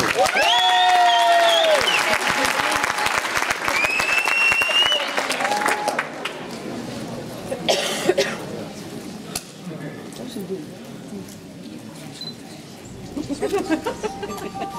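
An audience applauds a dance selection team at a dance studio competition, with loud clapping and cheering voices up front that thin into scattered claps and murmuring talk after about six seconds.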